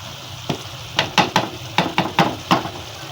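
Aloo matar methi, a potato, pea and fenugreek dish, cooks in a pan with a low steady sizzle, broken by about eight sharp scraping stirs of a spoon against the pan.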